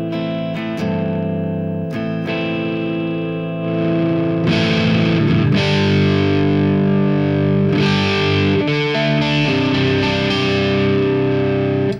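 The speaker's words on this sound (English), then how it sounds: "if I start to hit the guitar a bit harder, it starts to break up." A Zakk Wylde signature Gibson Les Paul electric guitar is struck harder so its tone breaks up into crunchy distortion, with a sustained run of chords and picked notes played loud and alone for about twelve seconds.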